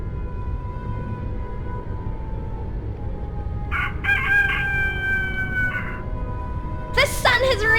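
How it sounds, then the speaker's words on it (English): A rooster crows in A Vampyre Story, giving one long, loud cock-a-doodle-doo over a low steady background hum, then starting a second crow near the end. "The sun has risen and the rooster crows."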